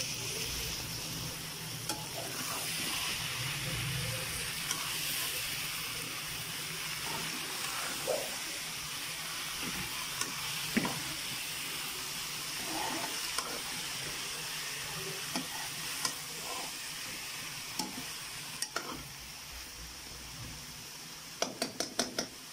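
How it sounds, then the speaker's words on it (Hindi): Minced meat (keema) fries in ghee with a steady sizzle across the whole stretch, while a spoon stirs it in repeated scrapes and light clinks near the pan. A few sharper metallic taps come near the end. No one speaks. "हमारा कीमा जो है वो भूनने के करीब है। इसमें घी छोड़ दिया।"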